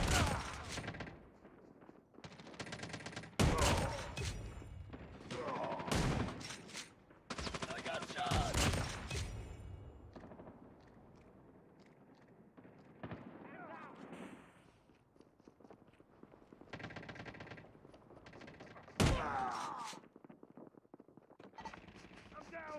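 Gunfire from Call of Duty Mobile crackles in repeated bursts and single shots, some loud and close, others fainter, scattered unevenly through the match with voices calling out between them.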